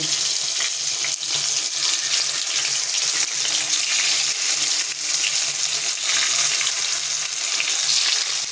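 Steady, gentle sizzling of frying in ghee over a low gas flame fills the clip without pause, a soft continuous crackle at close range with no voices.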